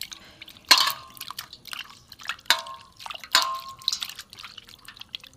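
Water draining from freshly washed paneer after repeated rinsing, heard as a few sharp close splashes and drips with softer trickles and small wet squishes between them, quiet otherwise and with no talking.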